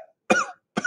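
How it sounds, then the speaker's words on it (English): Two harsh, close coughs about half a second apart, with a short throaty sound just before them. "How long have you had that cough?"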